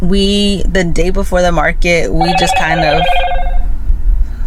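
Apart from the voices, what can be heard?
mobile phone ringing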